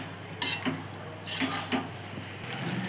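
Macaroni stirred in gravy in a pan over low heat, a spoon scraping and clinking softly against the metal a few times over a faint, steady sizzle.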